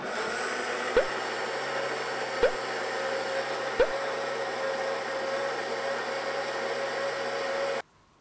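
A kitchen blender runs steadily, grinding green chilli peppers and ginger in kelp water for summer young-radish water kimchi, a continuous motor whir with a few brief clicks before it cuts off abruptly near the end.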